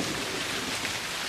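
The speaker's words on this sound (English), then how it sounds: "And this is rain." Steady rain hisses in a dense, even wash of noise, with no voices.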